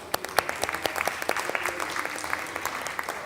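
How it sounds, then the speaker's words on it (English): Applause from the audience at a youth green jobs panel event, a fairly quiet, steady patter of many hands clapping that carries on evenly throughout with no talk over it. "A round of applause, please."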